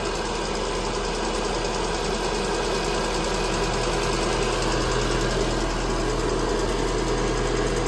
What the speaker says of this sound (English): So you can hear the heater whirring away there.